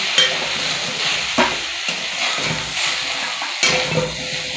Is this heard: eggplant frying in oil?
yes